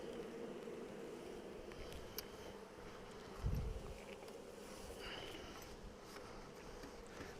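Honeybees hum steadily around an open beehive, a faint continuous drone close by with a brief low thump partway through.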